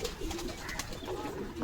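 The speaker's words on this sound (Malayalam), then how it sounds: "ഗൈസ്, പ്രാവ് ഇറങ്ങിയിട്ടുണ്ട്." Pigeons at a loft give soft, low cooing under a steady noisy background, faint and continuous throughout.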